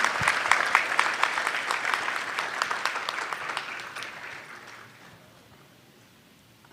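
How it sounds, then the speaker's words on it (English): An audience at a stress-management event gives a big round of applause, crisp individual claps thick at first, then thinning and fading away into near silence. "One big round of applause once again,"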